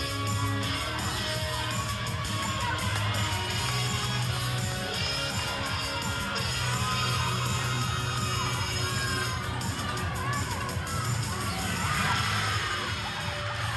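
A crowd at a women's college gymnastics floor meet cheers and shouts steadily, with whoops and claps rising and falling across the clip, sustained and fairly loud.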